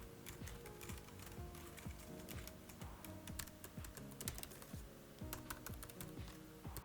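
Soft, rapid typing on a quiet A4Tech Fstyler keyboard, a steady patter of light key clicks close by, with no voices.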